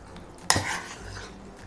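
A spoon clanks against a pot while beef pasanday is mixed with spices and water, one sharp metallic knock followed by a short wet scraping stir, close and alone.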